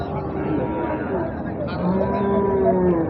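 Bulls at a livestock market moo with long, drawn-out calls over a constant background rumble, several animals lowing nearby.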